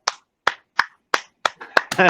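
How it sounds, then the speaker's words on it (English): About seven sharp, separate hand claps land in a steady rhythm, close and crisp with silence between, before a voice starts talking at the end. "we gotta clap it up"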